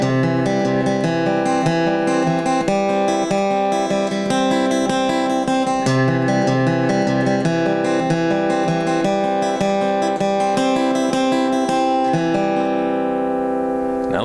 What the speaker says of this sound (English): and we're going to practice moving across the strings of the chord.